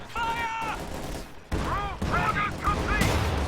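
Gunfire in the Company of Heroes 2 strategy game, several bursts of battle noise with sharp onsets and a loud shot near the end, mixed with in-game voices and effects.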